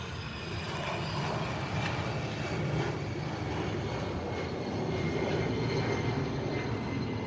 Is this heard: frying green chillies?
no